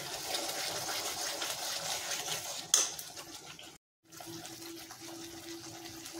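A little water is poured into spiced masala cooking for chicken tikka masala: a close, steady watery rush with one sharp clatter, a brief silence, then a softer bubbling hum.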